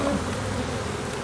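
Honey bees buzz steadily during a hive inspection, a dense, continuous drone close by with no voices over it.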